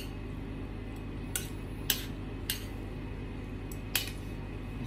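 Metal utensils mixing fire noodles in a dish give a few scattered, light clinks and taps at irregular intervals over a quiet background hum.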